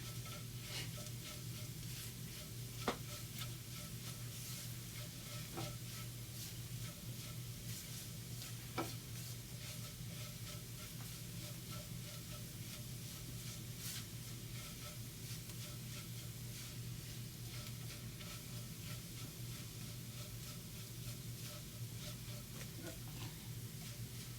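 Minced beef sizzles softly in a frying pan, a steady faint hiss with occasional light scrapes or ticks of stirring over a low hum.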